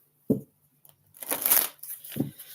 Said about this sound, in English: Let's get some shuffles here.